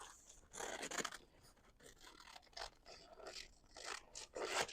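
Scissors snip and scrape through paper while cutting out a circle during cake baking, a quiet series of crisp cuts and rustles in irregular bursts, close by.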